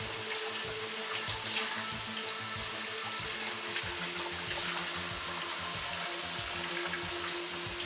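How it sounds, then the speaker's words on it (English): Water pours and splashes steadily, a continuous close trickling rush with faint clinks, like liquid draining out of a pot into a sink. "I'll actually try to get all the water out of here before I toss it in the crock pot"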